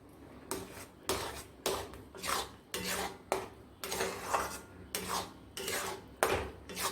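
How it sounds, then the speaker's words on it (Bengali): Custard and milk mixture being stirred in a pan, a steady rhythmic scraping of a spoon against metal, repeating about once every half second, close and fairly quiet, with no talk. "আর এটা নাড়তে থাকবো।"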